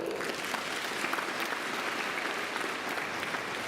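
A school audience of children claps for a student in the classroom, a dense, steady burst of applause that stays loud and even throughout.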